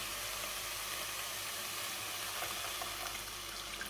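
Curry simmering and sizzling in a pan as ingredients are stirred in, a continuous faint hiss with occasional soft scrapes.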